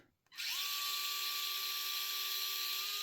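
A power drill backs out the battery tray screws on an Ascent 18 RC crawler: after a brief pause it spins up to a steady, close, high-pitched whine that holds without a break, and no one speaks.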